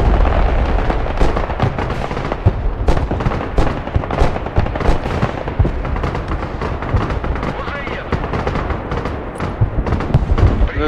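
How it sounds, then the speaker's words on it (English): Mortar and gunfire barrages in the Broken Arrow war game rattle on continuously, dense overlapping booms and sharp cracks at close range, loud and relentless, with voice chatter mixed in underneath. "I'm calling in mortars."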